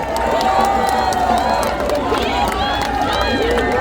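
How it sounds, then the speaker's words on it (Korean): A large crowd at a Korean political rally greeting party leader Han Dong-hoon, a steady roar of cheering and babble with some clapping mixed in, voices calling out over the noise. "여러분 박수 많이 보내주세요."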